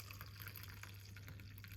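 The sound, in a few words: cup of herbal tea being poured out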